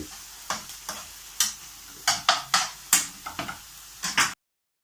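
Bacon and onion frying in a pan, with a soft sizzle under a dozen or so sharp, close scrapes and knocks of stirring at an uneven pace, no voices.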